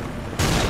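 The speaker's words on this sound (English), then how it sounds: "flashbang" A flashbang grenade going off in Modern Warfare 2 during team deathmatch on Skidrow: a quiet stretch broken by one sudden loud burst that swells into a sustained, bright ringing roar filling the rest of the moment.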